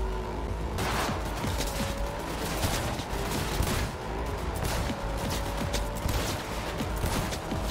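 Gunfire in the video game Cyberpunk 2077, dense rapid bursts of shots over a loud, constant backdrop of game sound effects, sustained throughout without speech.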